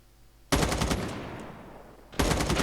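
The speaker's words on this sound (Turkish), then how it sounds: "M4'ün sesi değişmiş demiştin değil mi?" M4 rifle fire in the mobile shooter Call of Duty Mobile: a loud, dense automatic burst of rapid shots with a decaying tail, then a second burst starting near the end.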